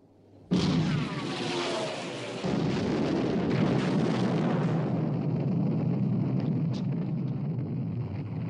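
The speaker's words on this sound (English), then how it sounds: "Open fire, main armament." Battleship main guns open fire with shells bursting in a 1960 naval war film about sinking the Bismarck, a loud sudden blast followed by sustained heavy rumbling roar and rolling explosions that continue throughout.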